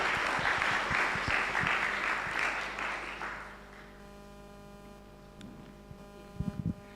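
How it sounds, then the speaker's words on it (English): Audience applause at a nature and circularity conference session, a loud, dense burst of clapping that fades after about three and a half seconds into a quiet room, with a few faint knocks near the end. "Can we clap our hands for Keneilwe?"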